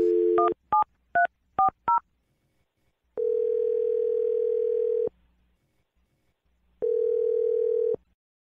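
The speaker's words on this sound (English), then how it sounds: "I'm going to dial the phone number right now" Touch-tone telephone dialing for a radio call: five quick paired beeps in a rapid sequence, then two long, steady ringback tones separated by silence, clear and close with no talking.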